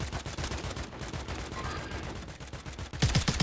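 Rapid bursts of automatic gunfire from a Warzone match, dense and continuous with a louder, closer burst at the end, with no talking during the shots.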